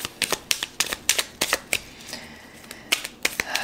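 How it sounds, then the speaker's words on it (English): A deck of tarot cards shuffled by hand, a rapid run of crisp flicking riffles in quick uneven bursts with a brief pause in the middle, close and clear with no talk over it. "Messy shuffling here."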